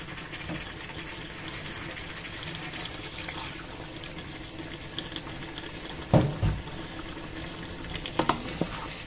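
Water pours and splashes steadily into a cooking pot of mechado at close range, with a couple of louder sloshes and clanks near the end.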